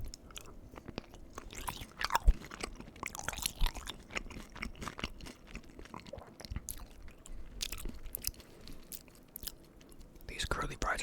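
Close-up chewing of cheese-covered Kroger curly fries, with soft wet crunches and mouth sounds mixed with whispered talk throughout.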